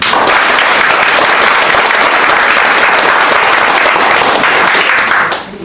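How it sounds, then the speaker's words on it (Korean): Loud, sustained applause from a large crowd claps steadily for several seconds, then fades at the end. "다시 한번 감사의 큰 박수 부탁드립니다"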